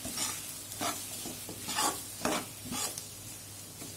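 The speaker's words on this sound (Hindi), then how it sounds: "इसको हम इस तरीके से कढ़ाई में फैला लेंगे ताकि ये सिक पाए अच्छे से" A potato and onion mixture being stirred and spread in a kadai, with a soft continuous sizzle and repeated scraping strokes of a spoon, fairly quiet and close.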